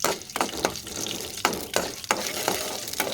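Mustard seeds and chana dal frying in hot oil for coconut rice, a steady close sizzle broken by repeated sharp crackles and pops from the seeds, with a scraping stir now and then.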